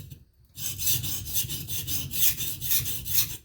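A knife blade is ground on King 300 and Cerax 1010 whetstones, its steady rhythmic rasping strokes repeating close and loud after a brief quiet start.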